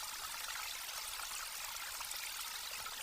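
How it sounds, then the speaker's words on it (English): The Las Piedras River in flood, bursting its banks in the jungle and carrying whole trees along, gives a steady, loud rushing roar of turbulent water that holds constant and unbroken throughout, with no voices over it. "The Las Piedras River is bursting its banks."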